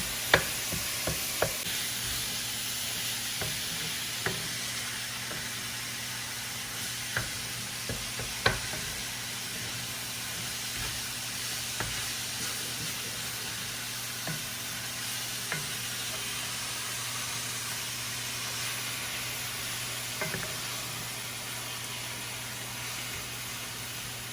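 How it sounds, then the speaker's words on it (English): Ground beef browning in a hot pan gives a steady, even sizzle throughout, broken by occasional sharp clicks of stirring. Fairly loud and close, with no talking. "While I'm browning my meat, you want your oven on, preheating at 400."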